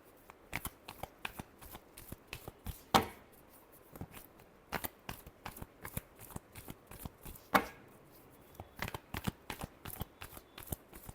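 Tarot cards being shuffled by hand, a steady run of crisp, close riffling flicks and slaps with two sharper bridge-like bursts, quiet overall with no talking.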